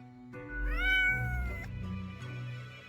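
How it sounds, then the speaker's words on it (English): A cat meows once, a clear rising-and-falling call close by with a steady low hum underneath, inside a story scene just after a phone call. "Meow, the cat replies absent-mindedly"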